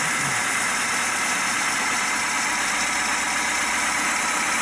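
An engine with an early ignition timing problem idles steadily at low revs, a continuous close rumble with a hissy, droning texture and no voices.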